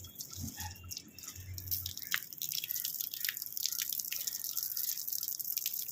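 Water drips and splashes continuously while a pet lovebird is bathed, with soft close-up patter and a low hum at the start.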